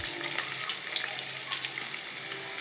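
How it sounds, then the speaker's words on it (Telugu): Sliced onions and green chillies fry in hot oil for gongura rice, a soft steady sizzle with no talking. "వేగిన తర్వాత ఉల్లిపాయ ముక్కలు, పచ్చిమిరపకాయలు కూడా వేసుకొని"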